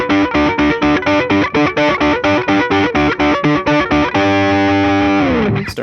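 Loud distorted electric guitar chords in a hard-rock style, strummed in a steady choppy rhythm of short repeated stabs, ending on a long ringing sustained chord that fades with a brief scrape at the close.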